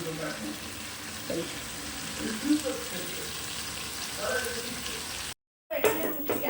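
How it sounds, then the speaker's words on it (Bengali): Hot water hits meat frying in oil for a gravy, producing a loud, steady, close sizzle and bubbling that runs almost throughout, broken by a brief silence near the end. "এবার একটু গরম জল ঢেলে দেবো ওতে"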